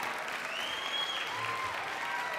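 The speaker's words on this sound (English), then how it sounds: "One more round of applause for the band and the choir." Steady applause from a crowd at a middle school winter holiday concert, for the band and choir, dense and even, with a faint whistle rising over the clapping.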